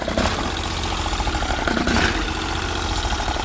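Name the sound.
Briggs 20HP V-twin engine running on Bolens 1600H tractor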